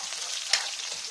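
Onion goes into garlic frying in hot oil for chicken adobo, a close, steady sizzle and crackle with one brief sharp spike, heard alone with no talk.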